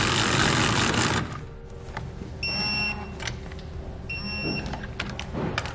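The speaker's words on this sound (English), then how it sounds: "Then we'll use our 9/16 inch socket. We want to snug down our hardware and we can tighten them to specification." A 9/16 inch socket tightens hub hardware for Dexter electric trailer brakes. A loud rushing burst opens, then two short whining spins of a powered driver come up close over a constant background hum.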